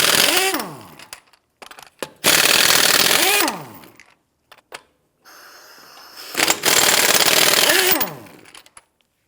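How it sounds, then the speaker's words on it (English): Impact wrench loosening and spinning off the 21mm lug nuts on the rear wheel of a 1992-1996 Toyota Camry 2.2L, in three loud, close bursts of rapid hammering whir with short pauses between them. "Using your 21mm socket, loosen and remove the lug nuts."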